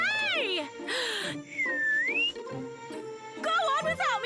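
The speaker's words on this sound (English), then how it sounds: "I was the one whistling." A cartoon character whistles a bright gliding tune, rising and falling in short phrases between squeaky, exaggerated voices, close and clear in a KikoRiki animated episode.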